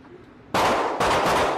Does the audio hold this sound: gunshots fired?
yes